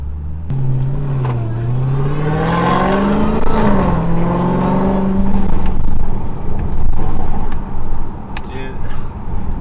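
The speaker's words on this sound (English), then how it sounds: "hearing that supercharger is insane" A supercharged Dodge Hellcat engine drones and rises in pitch, loud and steady throughout, with people talking over it inside the car.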